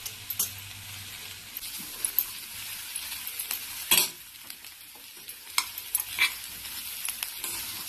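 Chana dal, urad dal and cumin frying in hot oil for radish chutney, a quiet continuous sizzle broken by scattered clinks and scrapes of a spoon stirring the pan, with one sharper knock midway.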